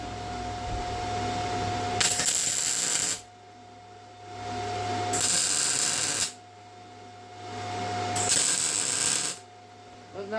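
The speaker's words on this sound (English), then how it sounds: "Doesn't that welder sound crispy?" A welder laying a patch on an old blue truck crackles and hisses in three loud, crispy bursts of a few seconds each, separated by quieter stretches with a steady hum underneath.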